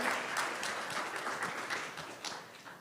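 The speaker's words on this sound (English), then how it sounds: "So let's give all of y'all a round of applause for showing up and doing the work" Applause from an audience at a veteran landlord appreciation awards event, steady dense clapping across the whole stretch that thins slightly toward the end.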